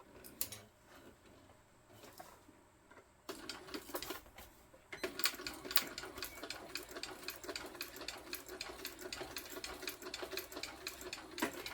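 Sewing machine top stitching a tote bag contrast panel an eighth of an inch from the edge: short stop-start bursts at first, then a loud, steady, rapid needle rattle running continuously to the end.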